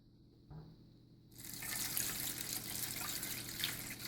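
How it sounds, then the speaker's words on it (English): Water pours from a tap or jug into a pan for a cheesecake water bath, a brief knock at first, then a steady broadband rush of filling liquid that stays loud and close. "just going to pour your water right in there"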